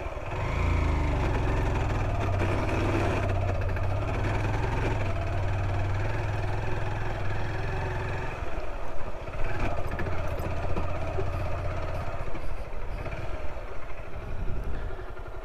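A motorcycle engine idles steadily on a rough highway in Rio Grande do Sul, a loud low rumble that continues throughout with constant road noise and no talk.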